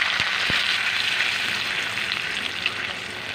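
Fried onions sizzle hard in a hot pan as a little water hits them, a loud continuous hiss and crackle that holds steady throughout, with a couple of soft knocks near the start.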